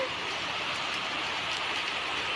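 Steady rain pours down outdoors on a village farmyard, a dense, even hiss of drops close by with no break, heard alone.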